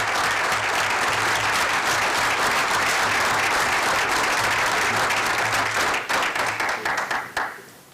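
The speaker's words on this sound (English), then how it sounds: "Let's give them a round of applause" Loud, sustained applause from an audience at a school board meeting, steady clapping filling the room before thinning out and fading in the final seconds.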